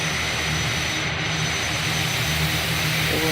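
ATR-72 turboprop engines in a flight simulator make a loud, steady, dense roar with a low droning hum, continuous and close throughout.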